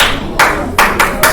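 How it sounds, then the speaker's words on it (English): A few meeting attendees clap weakly in a small room, giving four sharp, separate claps spaced unevenly. "Your clap's so weak"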